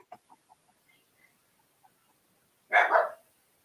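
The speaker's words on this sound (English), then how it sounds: "Now his dog's going, man." A dog barks once, loud and fairly near, after a series of faint distant clucks or yips in an otherwise quiet outdoor setting.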